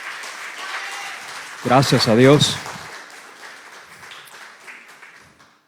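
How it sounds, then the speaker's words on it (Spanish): Applause for the fathers at a Father's Day church gathering, a soft crowd clapping that fades over several seconds, with a voice speaking over the middle of it. "Denle un aplauso fuerte a los padres que están en esta mañana aquí"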